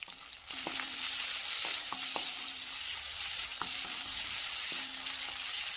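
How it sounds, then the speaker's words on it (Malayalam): Onion, chillies and curry leaves sautéing in a pan, a steady loud sizzle throughout with several sharp spoon scrapes and taps against the pan, close and without talk. "ഇത്രയും ചേർത്തിട്ട് നന്നായിട്ടൊന്ന് വഴറ്റിയെടുക്കാം."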